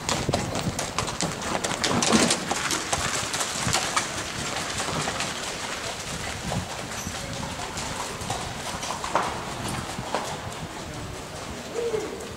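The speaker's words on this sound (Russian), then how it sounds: "я за раз столько ишаков и верблюдов не видел нигде, сколько здесь" Donkey hooves clip-clop at Petra, Jordan, sharp irregular clops on stone passing near and fading, with birds cooing in the background.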